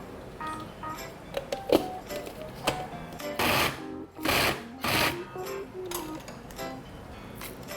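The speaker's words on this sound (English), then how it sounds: "I'm going to mince the meat, but before I mince it, I got to cut it into smaller pieces" A knife chops meat into smaller pieces on a chopping board before mincing, sounding as a quick run of close, sharp taps, then several heavier, louder bursts of rapid chopping with short pauses between them.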